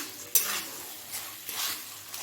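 Hilsa fish head with salt, cumin, chili and turmeric powders being stirred in a sizzling pan, a sharp utensil scrape near the start followed by steady frying hiss and soft stirring swishes, no talking.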